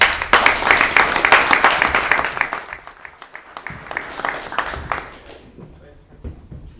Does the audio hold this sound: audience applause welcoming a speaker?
yes